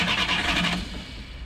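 Barkas van engine cranking and catching, a loud rough mechanical scrape that starts strongly then settles into a lower, fading run, heard close and alone.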